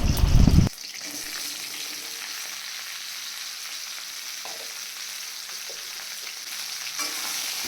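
Ridge gourd dropped into hot oil tempered with nigella seeds and green chilli gives a loud burst of sizzling, then settles into a steady, even frying hiss that continues close up without talk.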